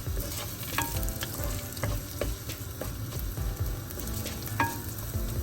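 Sliced onion and green chili fry and sizzle steadily in a pan, with stirring scrapes and small crackles throughout, close and fairly loud, no voices.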